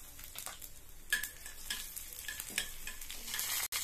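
A hot-oil tempering of mustard seeds, urad dal, curry leaves, dried red chilli and asafoetida for a chutney sizzles softly and steadily, with a few louder crackling bursts from the popping seeds.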